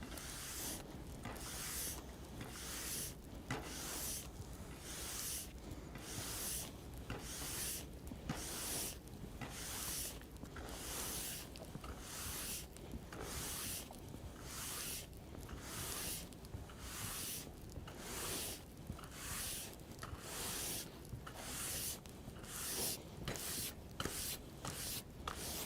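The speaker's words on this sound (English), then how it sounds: "So I'm going to start with the large oval steel. I'm going to brush out as much as I can and move through our brush progression." A large oval steel brush scrubs the base of a ski in repeated strokes during race-day tuning, giving a steady, close, scratchy rasp with regular rhythmic pulses that carries on throughout with no talking.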